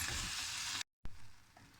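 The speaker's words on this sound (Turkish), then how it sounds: "Tavuklarımız su salmaya başladı suyunu çekene kadar çevire çevire kızartıyoruz." Chicken pieces frying in a pan, releasing their juices, give off a loud continuous hiss and sizzle that cuts out abruptly for a moment, then resumes at a softer level.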